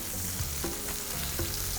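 Pink snapper skin frying in a hot pan while pressed down to crisp, a loud, close, continuous crackling sizzle with a few light scrapes of a utensil.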